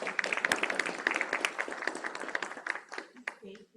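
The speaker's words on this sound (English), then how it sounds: "Give her a round of applause." Audience applause at an indoor real-estate team meeting, a dense wash of clapping from a crowd that goes on for several seconds and thins out toward the end.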